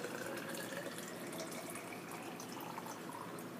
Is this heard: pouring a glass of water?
yes